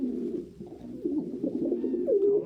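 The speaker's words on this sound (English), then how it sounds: "Oh my goodness, birds." Pigeons coo close by in soft, low, throaty rolling calls that overlap continuously for a couple of seconds, with no talk.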